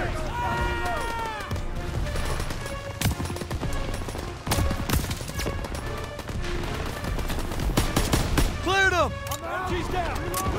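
Machine gun fire in the Call of Duty WWII video game rattles in loud, dense bursts and scattered shots, mixed with game sounds and dramatic music throughout.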